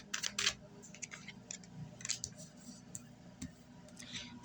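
Tarot cards being shuffled by hand: quiet, irregular riffling and soft clicking snaps in scattered bursts, close up with a faint low background hum.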